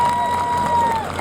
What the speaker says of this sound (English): Give it up for Jeff Turner for his ride.